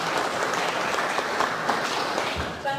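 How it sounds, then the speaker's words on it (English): An audience at a civic enterprise event claps for a woman named Andrea, steady dense applause from a roomful of people throughout, with faint talk underneath. "So if you could give a round of applause to Andrea and all."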